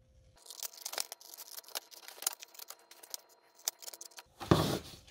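Scissors snip through paper while building a paper roller coaster shelf, a string of close, crisp cutting and rustling sounds with irregular rhythm, ending in a louder crinkle of handled paper.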